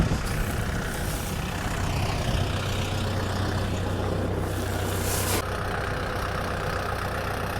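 Farm vehicle pulling up to be loaded with hay while bullock feed is gathered, a steady nearby engine drone that runs on throughout and eases slightly toward the end, with no talking over it.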